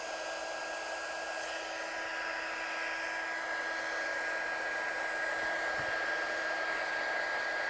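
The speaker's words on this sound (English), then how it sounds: "I'm just going to get my gun hot, and then it's less time on the card" A heat gun warming up before heat setting embossing powder on a card runs as a steady, loud blowing whoosh that stays constant from start to finish, with no talking over it.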